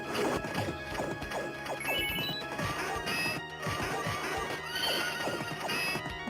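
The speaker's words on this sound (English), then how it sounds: "Do love you can get on the horse and ride around." Game-style horse whinnies ring out over busy galloping and clattering effects in a Capcom game on the Evercade Alpha, with crashes and layered music, loud and continuous throughout.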